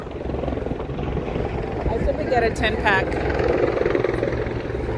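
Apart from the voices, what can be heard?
helicopter landing near New York City ferry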